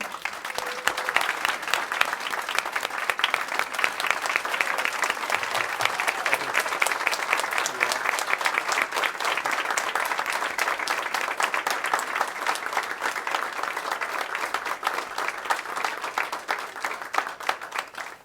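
Audience applause at a school employee excellence awards ceremony, dense steady clapping from a large crowd that fills the room continuously and fades out at the end.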